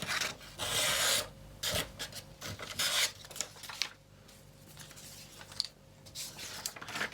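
Raspy scraping strokes of a rock-sharpened knife edge drawn through paper, several passes with brief pauses between them, close and fairly loud with a gritty texture.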